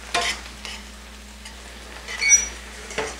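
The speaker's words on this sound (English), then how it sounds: "You see how we're cooking that leek and the mushroom together?" Green beans, leek and mushrooms fry in olive oil in a pan, giving a steady low sizzle with a few louder stirring bursts and scrapes, no one talking.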